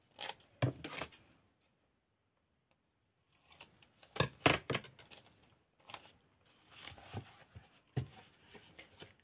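Scotch tape being cut for a craft project, heard as quiet crisp snipping and rustling bursts in a few irregular clusters separated by brief silences, close up and alone.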